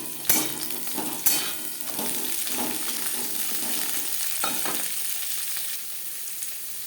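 Chopped bottle gourd stalks hit hot oil with garlic, giving a loud steady sizzle and fry, with a couple of sharp clatters near the start and stirring scrapes throughout.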